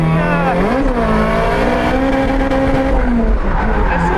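A turbocharged BEAMS-engined Toyota AE86 drifting at FuelFest Phoenix 2025, loud sustained tire squeal over a droning, wavering engine note, close and continuous.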